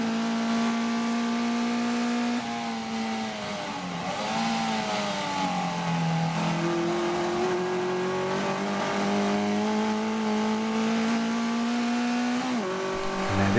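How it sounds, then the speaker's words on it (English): Race cars scream through the Craner curves at Donington Park, two abreast at about 115 mph, a loud, sustained engine roar that rises and dips in pitch as they accelerate through the bends. "working together side by side at 115 miles an hour, two abreast through the Craner curves, and Jamie is through"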